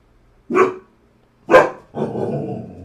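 A dog lets out two sharp, separate barks about a second apart, then a longer rough growling bark, loud and close in an otherwise quiet room.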